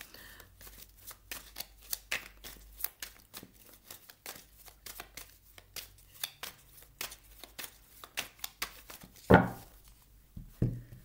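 A deck of tarot cards is shuffled by hand, a long run of quick, crisp riffling flicks and slaps close up, uneven in rhythm, with a brief voice near the end.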